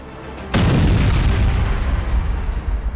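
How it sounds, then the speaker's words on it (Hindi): Heavy bomb explosions and missile strikes in wartime: a single loud, deep boom erupts about half a second in, followed by a sustained low rumbling roar that slowly decays over the following seconds. "तेहरान पर बम बरस रहे हैं, इजराइल पर मिसाइलें गिर रही है"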